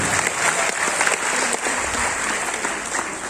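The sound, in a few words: audience applause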